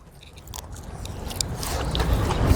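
Someone bites close up into a classic burger with pickle, lettuce and tomato, making a soft crunching, squishing bite that builds over a couple of seconds with no talking.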